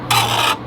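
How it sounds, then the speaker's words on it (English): A screwdriver worked against a car airbox, giving one short, loud, close rasping scrape of under a second. "So I'm gonna take that screwdriver."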